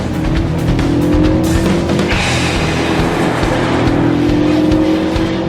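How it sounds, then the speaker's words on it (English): Hot hatchbacks in a drag race in sport mode, a Vauxhall Astra VXR, Ford Focus ST and Renault Megane, with engines roaring loud and continuous as they accelerate hard and close. "To show you how much faster I engaged sport mode and pulled up for a drag race."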